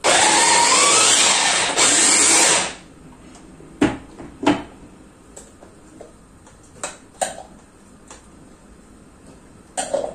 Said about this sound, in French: On va venir mixer le lieu noir.